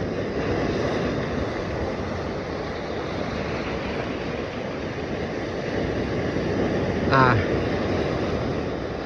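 Rough sea with strong, high waves after a tropical storm, heard as a dense continuous wash of surf and wind buffeting the microphone, loud and steady from a fishing spot, with a brief sharp noise near the end.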